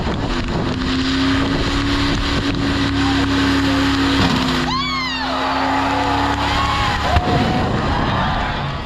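Mopar cars do a burnout contest on a concrete pad at the 2021 Midwest Mopars in the Park show in Minnesota. A loud, sustained engine drone builds to a sharply rising rev midway, with wind buffeting and crowd noise around it.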